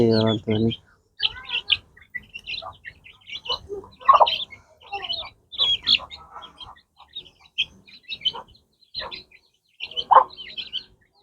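Bhimavaram rich-breed chicks chirp in a busy flock, with many short high peeps and tweets overlapping throughout, fairly close, along with a brief low voice at the very start.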